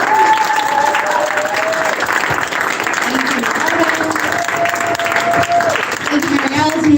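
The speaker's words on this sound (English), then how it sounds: "Can we all give her a big round of applause?" A crowd applauds steadily and warmly, with voices calling and cheering over the clapping throughout.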